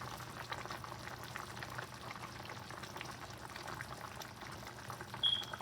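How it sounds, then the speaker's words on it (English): Curry oxtail boiling in a pot as seasoning is poured in, a steady bubbling and liquid hiss running evenly throughout with no talking. "So now I'm going to pour my seasoning in."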